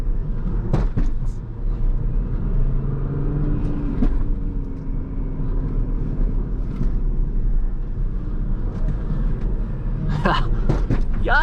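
An EcoDiesel Jeep Grand Cherokee prerunner off-roading, its diesel engine a steady low rumble throughout with bumps and rattles from rough terrain, plus a few sharp knocks near the end.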